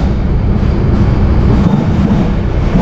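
Cox's Bazar Express, a brand-new train, arriving at Chittagong railway station: a loud, steady low rumble of rolling stock that fills the whole stretch without a break, with no voices.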